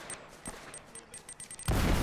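Sharp gunshots in quick bursts from the video game Uncharted 1, clipped and game-like, scattered across the moment and ending in a loud sustained blast of noise.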